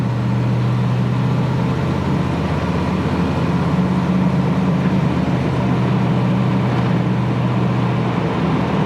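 A 1972 Dodge Challenger accelerates up through its gears, heard from inside the car as a steady, loud engine drone that holds without pause for the whole stretch.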